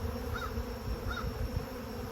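Honeybees buzzing steadily at close range during a hive inspection, a dense continuous hum with a couple of brief higher whines passing by, no voices.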